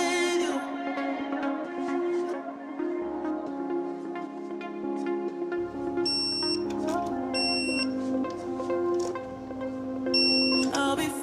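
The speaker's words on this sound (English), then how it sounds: "that beep does your head in" A high-pitched electronic beep sounds repeatedly in short bursts at regular intervals while a Volvo V70 T5 is being worked on, over a background of music-like tonal sound.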